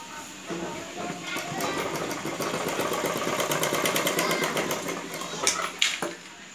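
A sewing machine stitches a folded blouse back-neck piece, a steady mechanical whirring with fine rapid clicking that builds and runs continuously, slowing near the end with a couple of sharper knocks.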